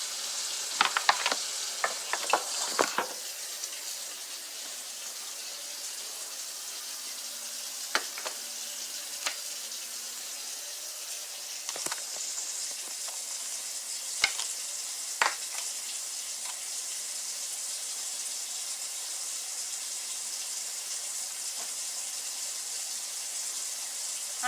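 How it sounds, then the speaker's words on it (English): Food fries in a pan with a quiet, steady sizzle, and a wooden spoon stirs and scrapes now and then, making sharp clatters that are most frequent near the start. "I'm going to take my wooden spoon and bring it over to the frying pan."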